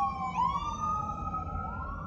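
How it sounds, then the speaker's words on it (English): An ambulance siren wails through a city street, heard from inside a parked car, its rising and falling tone fairly faint and steady over low traffic rumble. "Don't mind the ambulance"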